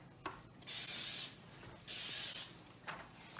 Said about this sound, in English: You didn't spray the other side of the middle one.